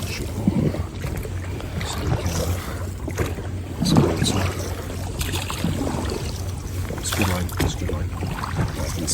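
A small dinghy tender motors through water toward shore, its steady engine drone carried under heavy wind buffeting on the microphone, with splashing and hull slaps over a constant low hum.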